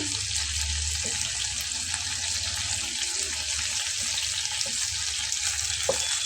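Mustard-paste paturi of fish wrapped in gourd leaves fries in a pan, a steady close hiss of oil with faint crackles running the whole time, no talking.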